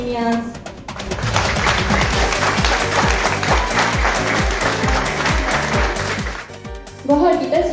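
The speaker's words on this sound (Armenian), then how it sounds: "Եկեք բարձր, շատ բարձր ծափովթույներով դիմավորենք և շնորհավորենք միմյանց։" An audience at a third-anniversary celebration breaks into loud, sustained applause for about five seconds over a steady thumping music beat, then it fades as voices return.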